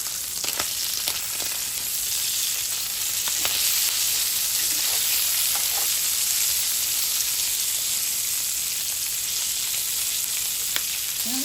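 Bacon and sausages fry on a hot griddle, giving off a loud, continuous sizzling hiss with occasional faint pops and scrapes, and no voices over it.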